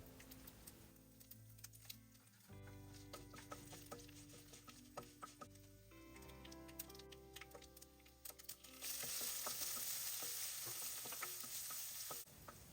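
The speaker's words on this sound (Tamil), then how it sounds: "இப்போ பொடியாக நறுக்கிய வெங்காயம் சேர்த்து வதக்கிக்கோங்க" Finely chopped onions sizzle and crackle in hot oil, with scattered stirring clicks and scrapes, growing to a louder hiss toward the end.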